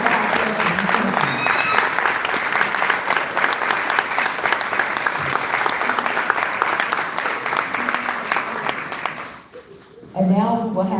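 An audience applauds at a live church-style gathering in dense, steady clapping that fills the room, tapering and thinning toward the end before voices and other sound return.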